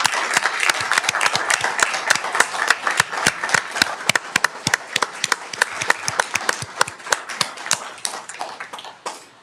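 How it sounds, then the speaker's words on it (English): People at a Daly City council special meeting give a round of applause, with distinct, crisp individual claps from a modest group that thin out and fade near the end. "I would like to give a round of applause to each and every one of you"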